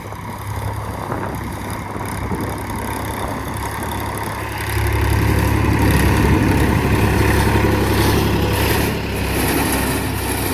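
A tractor runs in a rain-soaked field, its engine chugging steadily nearby and then swelling louder and heavier about halfway through before easing slightly.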